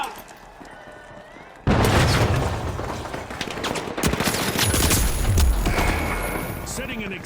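Loud, sustained gunfire and a sudden explosive blast from a frag grenade in the video game THE FINALS, dense rattling shots continuing after the boom with game sounds layered over it.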